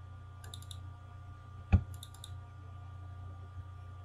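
Computer mouse double-clicking while dimensioning a drawing in AutoCAD, heard as one sharp, close click near the middle over a steady low background hum, with faint tapping before and after.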